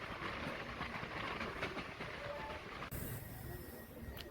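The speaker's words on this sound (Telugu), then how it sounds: "సో ట్రైన్ అయితే స్పీడ్గానే వెళ్తుంది ఇక్కడ." A Gunupur fast passenger train runs at speed near Parlakhemundi, a faint continuous rattle and rumble of carriages with soft rhythmic wheel clicks and a brief abrupt shift in tone partway through.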